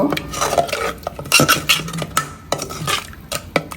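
Roasted rice flour being stirred in a pan for a milk puli pitha filling, with irregular metallic scrapes and clinks of a spoon against the pan, close and moderately loud, no talking.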